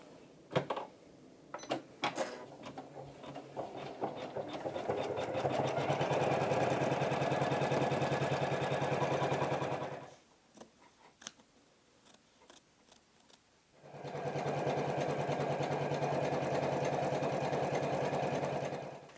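An embroidery machine stitching out an applique runs in two long, steady bursts of rapid mechanical stitching, preceded by a few clicks and a brief quiet pause between runs, close and fairly loud with no talking.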